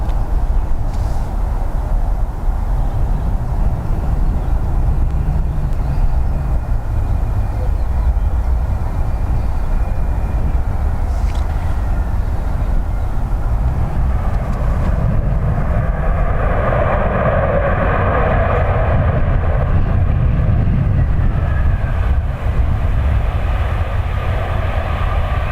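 A passenger aircraft lands at Dublin Airport in a crosswind, a loud, sustained roar of jet engines and rushing air that grows and shifts in tone midway as the plane passes close, with no talking.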